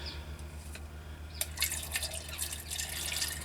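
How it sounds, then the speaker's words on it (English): Water poured into a metal billy can for steaming vegetables, a bright splashing trickle that starts after a few scattered drips and continues unevenly, close and fairly quiet over a low hum. "Put a bit of water in there."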